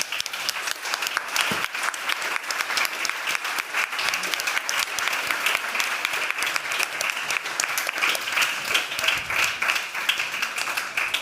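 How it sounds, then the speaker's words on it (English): An audience applauding the directors at a film festival event, a dense, sustained round of clapping from a crowd that carries on steadily for the whole stretch. "big round of applause once more to all of our directors"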